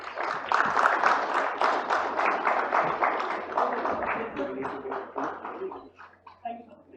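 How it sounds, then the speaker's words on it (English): An audience at the GRIHA sustainability summit claps in a dense burst of applause that starts strong and slowly thins out, with a few final scattered claps near the end. "A round of applause, please."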